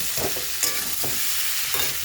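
Beans, potato and pumpkin frying in a pan, a continuous close sizzle broken by a few soft stirring scrapes, no voices.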